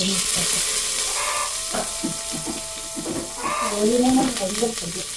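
Sliced onions fry in hot ghee with a constant crackling sizzle while someone talks over it.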